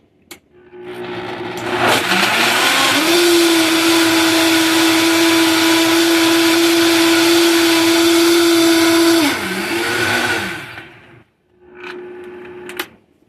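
A Vitamix 5200 blender whirs through a banana smoothie, spinning up to a loud, steady high-speed roar that holds for several seconds, then winds down, followed by a brief second short burst.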